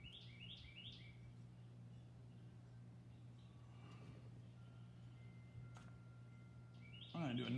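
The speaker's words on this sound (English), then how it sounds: "Since I have to listen to these birds in the backyard every day." Small birds chirp faintly in a backyard in a few quick bursts near the start and again at the end, over a steady low hum and distant background noise.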